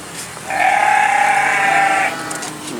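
Etawa goat bleating once, a loud, close, drawn-out call lasting over a second amid murmuring crowd noise at an agricultural expo.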